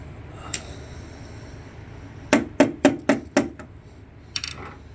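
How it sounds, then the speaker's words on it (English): A screwdriver taps on a drain screw in five quick, evenly spaced metallic knocks close by, with a couple of lighter clicks before and after. "Tap on the screw like that with a screwdriver."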